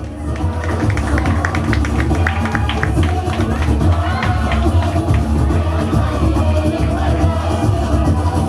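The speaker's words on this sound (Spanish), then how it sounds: "Aplauso para los jovencitos, ¿no?" An audience applauds young performers at a lively happy-hour group performance, with a dense patter of clapping sustained throughout. Crowd noise and voices mix in beneath it.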